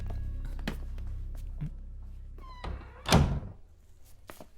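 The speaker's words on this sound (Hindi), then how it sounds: "दरवाजा बंद करो।" A door slams shut with a sharp, heavy thunk about two-thirds of the way through, amid scattered knocks and clatter in a quiet room during a Hindi-dubbed South Indian action film scene.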